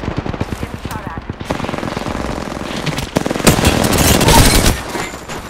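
Rapid automatic gunfire in a battle-royale shooter, a fast rattling burst of close, sharp shots that thickens into a louder, denser volley toward the end.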